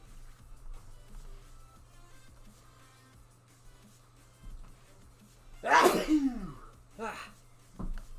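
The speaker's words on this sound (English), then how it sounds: "Getting them sneezes out" A single sharp, loud sneeze bursts out close by, followed by a short breathy aftershock and a smaller burst, against a quiet background hum.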